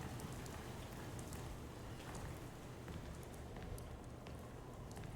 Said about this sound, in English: it's night and it's raining